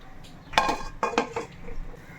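A metal lid clanks onto a pot of simmering fish curry, a couple of sharp clinks and rattles in quick succession, close up.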